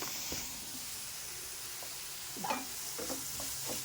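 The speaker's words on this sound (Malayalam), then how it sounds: "ഞാൻ സവാളയും എല്ലാം കൂടി ഇട്ട് വഴറ്റതിൻ്റെ ഉള്ളിലേക്ക് മഷ്റൂം കൂടി കട്ട് ചെയ്ത് വെച്ചിരുന്ന മഷ്റൂം കൂടി ഇട്ട് ഇളക്കിക്കൊണ്ടിരിക്കുകയാണ്" Mushrooms and sautéed onions sizzle in a pan for a mushroom biryani while being stirred, with a soft continuous frying hiss and occasional clinks and scrapes of the spoon.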